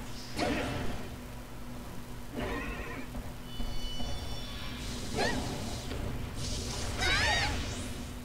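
A horse enemy whinnies several times in high, wavering calls in the video game Dissidia Final Fantasy Opera Omnia, mixed with game sound effects, whooshes and a steady low hum throughout.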